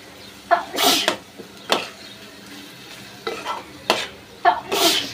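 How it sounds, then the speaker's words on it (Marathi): Several sharp sneezes, about five, burst out one after another in a kitchen where a spicy oil tempering for egg curry fills the air, each loud and close with quiet gaps between. "फोडणी मस्त झणझणीत झाली आहे मंडळी. त्याच्यामुळे शिंका सुटतात पटापट"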